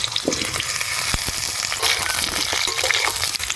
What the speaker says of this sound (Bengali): আমাদের তেলটা গরমও হয়ে গেছে, এবার আলুগুলো ছেড়ে দেব।